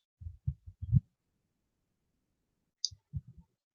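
A computer mouse clicks several times at close range: a quick run of four sharp clicks, a pause of nearly two seconds, then another short burst of three or four clicks, with no talking.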